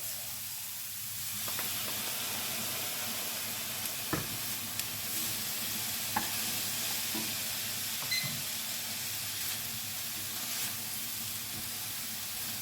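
Tomatoes frying in a pan with aubergine give a steady, close sizzle throughout, with occasional clicks and light scraping from stirring.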